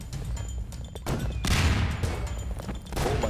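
Gunfire in a Garry's Mod Prop Hunt match, a dense burst of rapid shots with a louder stretch in the middle, heard close and fairly loud, with no voices.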